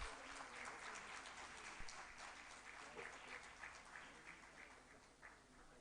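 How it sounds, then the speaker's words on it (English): Audience applause at a trauma conference in a hall, a steady, dense wash of many hands clapping that holds evenly for several seconds at a moderate, somewhat distant level. "Please give a round of applause."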